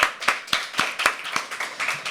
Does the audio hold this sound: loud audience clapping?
yes